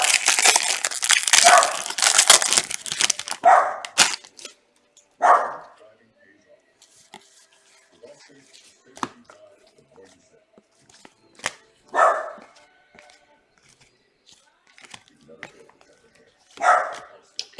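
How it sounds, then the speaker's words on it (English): A dog barks in a few separate short bursts spaced several seconds apart, moderately loud indoors, after an opening stretch of crinkling and handling noise with a person talking. "Dog barks."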